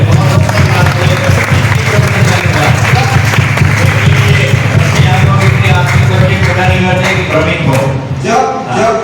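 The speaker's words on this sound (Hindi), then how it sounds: "तालियां बजाइए जोर से।" A sermon audience at a Hindi religious gathering claps loudly and steadily for several seconds, a dense, continuous applause that tapers slightly at the end.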